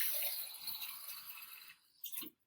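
Water splashes and trickles steadily into a shallow plastic tub being filled for a soap-powered motor boat experiment, a close continuous pour that tapers off, then a brief final splash.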